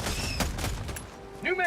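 Rapid gunfire and explosive booms crackle through a battle in the video game Helldivers 2, with a grenade blast among the repeated loud bursts and a voice speaking near the end.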